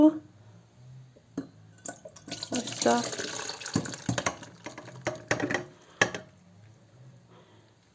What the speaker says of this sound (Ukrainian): А тепер ми цю воду, ці гриби відціджуємо